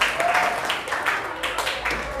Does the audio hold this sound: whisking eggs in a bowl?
no